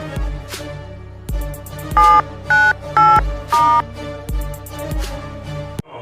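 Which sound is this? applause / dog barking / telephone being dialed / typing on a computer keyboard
telephone being dialed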